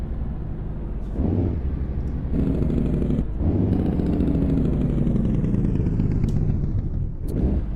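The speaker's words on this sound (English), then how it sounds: "Yeah, the engine sounds good." A Peterbilt 389 truck in a driving video game idles with a deep, steady rumble, broken by a few brief revs and clunks, close and loud throughout.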